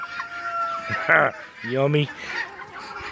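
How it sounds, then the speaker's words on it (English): A rooster on a big farm gives short, loud crowing and clucking bursts near the mic, with a person speaking between the calls. "Rooster. You're a rooster"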